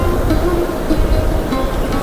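Waves break and wash along the beach at Puri, a continuous, fairly loud rushing surf that fills the short stretch evenly, with slight wind rumble underneath.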